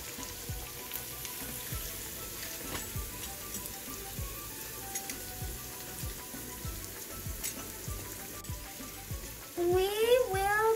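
Onions frying in a pan for chicken biryani, a steady soft sizzle crackling throughout at low level, growing a little louder near the end.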